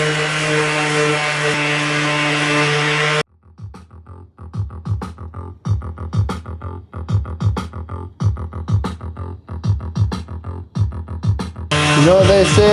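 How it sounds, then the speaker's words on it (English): Damascus steel knife blades are hand sanded in short, rhythmic back-and-forth strokes, each a scratchy rasp repeating about twice a second, heard close and alone between louder stretches of steady machine hum at the start and end. "Now I'm going to hand sand these"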